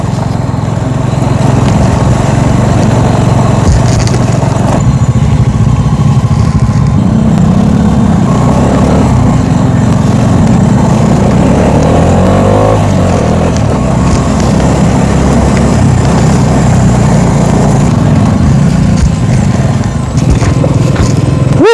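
A Bajaj Dominar motorcycle rides along a dusty off-road track. Its loud engine drones close by throughout, with the revs rising and falling, over wind and rumbling from the ground.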